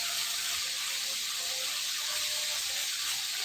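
Steak pieces for a second batch fry in a pan at home, giving a steady, loud hiss and sizzle of hot oil that holds evenly the whole time.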